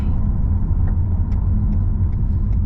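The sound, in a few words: car driving on country road in Yorkshire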